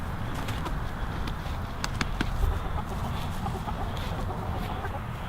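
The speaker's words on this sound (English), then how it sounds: "My rooster's hounding my hens." A rooster and hens cluck steadily at close range in a farmyard flock, with soft overlapping calls over a constant background rustle.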